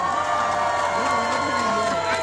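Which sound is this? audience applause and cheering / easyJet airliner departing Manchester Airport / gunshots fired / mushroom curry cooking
audience applause and cheering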